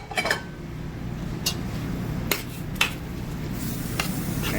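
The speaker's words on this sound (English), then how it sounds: "And stir those in until well incorporated and have absorbed the majority of the juices" Panko breadcrumbs being stirred into a chorizo and pork filling in a pan, a low simmering sizzle with a few sharp utensil clicks and scrapes against the pan, close and fairly quiet.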